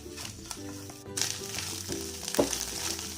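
Sliced chili stir-fried in a pan with eggs for Thai eggs with chili and salt, a continuous close sizzle and frying crackle with scraping stirring noises and brief louder spits.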